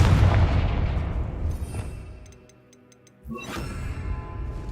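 A Confringo fire spell goes off in Hogwarts Legacy as a heavy, close blast that fades away, then a second burst cracks out after a brief lull.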